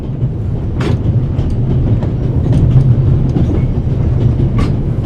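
A video game train rumbles steadily along the rails, loud and close, with a low drone and occasional sharp clicks from the wheels.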